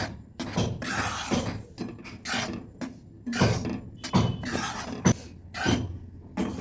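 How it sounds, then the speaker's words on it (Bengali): Chickpea flour (chatu) being fried in a couple of spoonfuls of ghee for a chatu sandesh sweet, stirred by hand, with repeated scraping and clinking bursts of a spoon against the pan in an uneven rhythm, close and fairly loud, with no talking. "হালকা হাতে ভেজে নিচ্ছি দু চামচের মতো ঘি দিয়ে"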